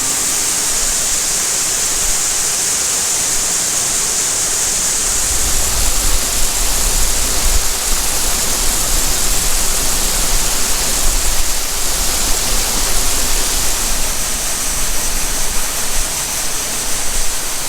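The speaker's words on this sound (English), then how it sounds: "We are loading the truck up now with soybeans." Steady, loud rushing hiss of soybeans pouring into a grain truck during farm harvest loading, a continuous noise that thickens with added low rumble partway through and carries on without talk.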